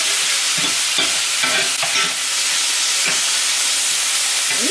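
Thinly sliced mushrooms with thyme fry in a very hot pan, giving a loud, dense hiss with repeated scraping stirs close up and no talking.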